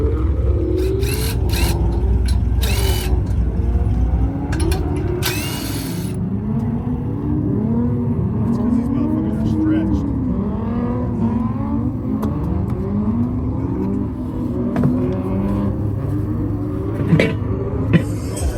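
A drift car on the strip at Las Vegas Motor Speedway during a Vegas Drift and Import Face-Off event, its engine revving and rising in pitch at a steady loud level, with a few sharp bursts early on.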